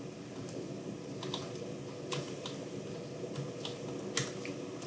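Keys tapped on a computer keyboard while drawing in AutoCAD, a few sparse, crisp clicks spread over a steady background hiss, close and fairly quiet.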